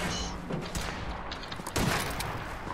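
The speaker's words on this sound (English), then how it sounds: "someone's shooting at me" Enemy gunfire in the video game Frost Survival, a dense burst of shots and thuds over a loud, noisy game background.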